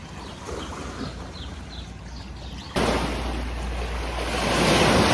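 Choppy lake waves and surf at Sirmione on Lake Garda, a steady broadband wash that jumps louder partway through and builds toward the end, mixed with wind buffeting the microphone and no speech.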